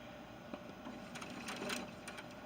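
A sewing machine stitches fabric, a fast even mechanical whir and needle chatter running steadily and fairly quietly throughout.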